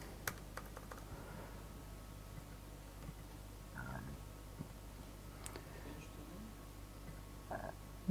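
Typing on a computer keyboard during a JavaScript meetup presentation, faint scattered key clicks and a few short bursts of keystrokes over a low steady room hum.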